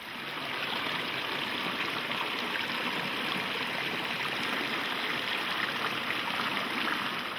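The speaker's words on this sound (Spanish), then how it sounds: "El agua fluye hacia los ríos filtrada y libre de sedimentos." A stream of water flowing steadily, a constant even rush and trickle at moderate level throughout, with no voices and no other sounds.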